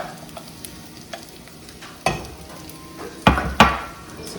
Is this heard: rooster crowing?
no